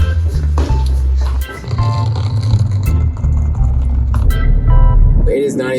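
Heavy, continuous road rumble from inside a car driving before dawn, with shifting engine tone and occasional clatter as people talk over it.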